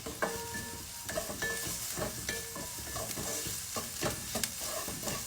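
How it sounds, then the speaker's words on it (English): Chopped onions with a little salt sautéing in a pan, a soft continuous sizzle broken by repeated clinks and scrapes of a utensil stirring, with no talk. "Okay, so just a quick saute, not rocket science."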